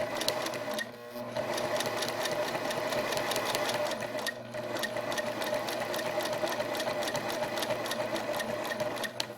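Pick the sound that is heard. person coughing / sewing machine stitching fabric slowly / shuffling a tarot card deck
sewing machine stitching fabric slowly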